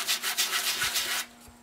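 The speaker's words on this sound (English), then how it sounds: "just keep sanding it until it's as smooth as you want" A 120-grit sheet sands a wood slice in about six quick, rhythmic back-and-forth strokes of close, raspy scraping, which stop abruptly and leave near quiet.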